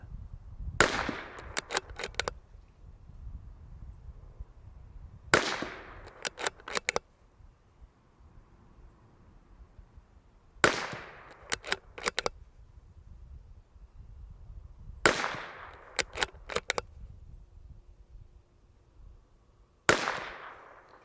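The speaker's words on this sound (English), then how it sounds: "we'll shoot a bunch of Eley through it and just see what we find as far as lots" A Bergara BMR X steel-barrel .22LR rimfire rifle firing Eley ammunition, with five groups of sharp, close shots, each group a quick string of cracks, separated by quiet pauses of a few seconds.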